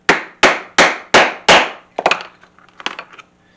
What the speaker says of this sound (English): Set that rivet.